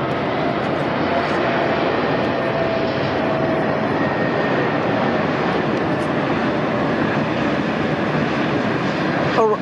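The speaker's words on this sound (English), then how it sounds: "now arriving in the sunrise, Qantas 11 Super." A Qantas Super Heavy airliner arriving at LAX at sunrise, its loud, steady jet engine roar filling the air continuously and close by.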